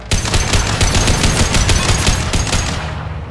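An automated turret in the video game Mass Effect 2 fires a loud, rapid burst of about a dozen gunshots in a steady rhythm over a few seconds, with no talking.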